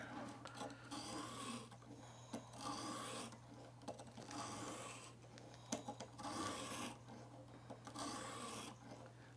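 A knife blade is drawn across the abrasive of a Viper Sharp sharpening system, giving repeated close rasping strokes in an uneven rhythm with small clicks between passes over a low steady hum.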